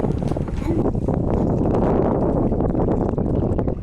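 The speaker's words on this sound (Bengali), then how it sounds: "এত হাওয়া কি বলবো তোমাদেরকে, শুধু হাওয়ারই শব্দ হচ্ছে।" Strong wind buffets a boat on the water, a loud, constant roaring rush of gusts against the microphone that drowns out other detail.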